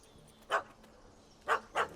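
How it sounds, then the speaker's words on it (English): Small yappy dogs in The Witcher 3 give three sharp barks, one and then a quick pair a second later, close and clear with no talk. "Don't know how to handle yappy little dogs?"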